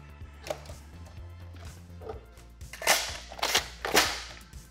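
A Dart Zone Pro-Series MK-4 foam dart blaster fires several sharp, snapping shots at irregular intervals, the later ones louder, over a low background hum.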